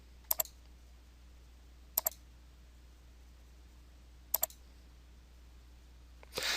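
A computer mouse clicks while working in Microsoft Excel: three sharp double clicks, spaced a couple of seconds apart, in an otherwise quiet room with a faint steady hum.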